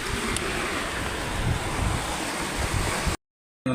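Strong sea waves wash onto a beach in the aftermath of a typhoon, heard as a steady, loud broadband roar of surf with wind noise across the microphone and no talking, ending in a brief dropout to silence.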